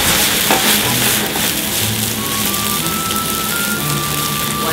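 Baby carrots, fingerling potatoes and other vegetables sizzle and crackle loudly in a hot pan as Pernod is flambéed, with a dense, steady frying hiss filling the whole stretch alone.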